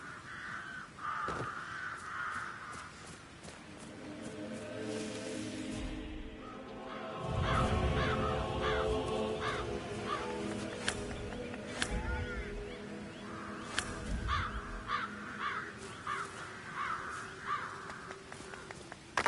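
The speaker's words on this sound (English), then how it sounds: "I'll never get rid of those stupid birds." Crows in the Hitman 3 video game caw again and again over a steady game backdrop, with harsh calls repeating throughout and no speech.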